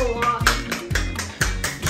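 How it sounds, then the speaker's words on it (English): A child claps hands at home in a steady rhythm, about two claps a second, close and moderately loud over a soft humming voice. "Clap, clap, clap your hands."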